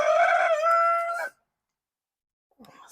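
A rooster crows loud and close in one long drawn-out call that cuts off sharply, followed by silence and then a faint brief sound of the flock.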